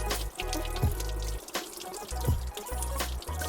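Antifreeze pours and splashes through a MerCruiser 3.0 marine engine during winterizing, a wet irregular gush with gurgles and drips over a low pulsing engine-like drone.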